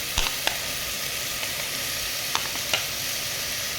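Sliced carrots frying in a hot pan for restaurant-style veg pulav, giving a steady low sizzle with a few sharp stirring clicks and taps of a spoon against the pan, heard close and alone.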